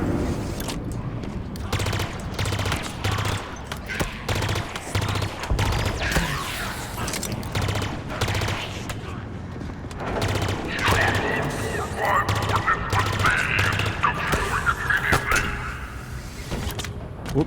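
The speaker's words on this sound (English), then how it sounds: "The shotgun has more range than the original shotgun, does less damage, but it's faster." Rapid shotgun blasts in Halo Infinite multiplayer, repeated bursts of gunfire at close range amid a busy mix of game effects and chaotic combat noise.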